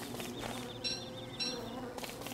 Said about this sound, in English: I hope that's not a mean bee.